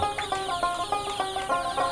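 Chickens at a Fayoumi poultry farm cluck close by in a steady, repeated chorus of short calls.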